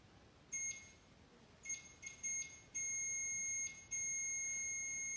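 A REM pod ghost detector goes off with high electronic beeps, first in short stuttering bursts and then in longer sustained tones, faint against a quiet room.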